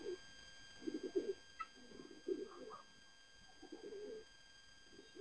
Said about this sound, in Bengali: এই যে এখানে কিছু কবুতর আছে।